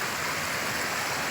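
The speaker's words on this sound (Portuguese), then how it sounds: "como tá chovendo muito, aí a água escorre" Rainwater running off on a small farm during heavy rain, a steady, dense rushing and splashing wash of water that continues evenly throughout, with no voices.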